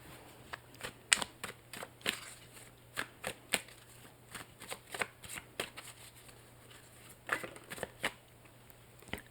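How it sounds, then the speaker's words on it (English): Tarot cards being shuffled and drawn in a quiet whispered reading, a close, steady run of soft riffling flicks and card snaps with brief pauses, no talking. "I will now draw a few tarot cards to see what else you have coming for the month of November."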